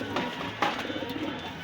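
Pigeons coo at an outdoor pigeon market in Gollamari, Khulna, soft repeated calls with a sharper sound near the middle, over a steady background murmur.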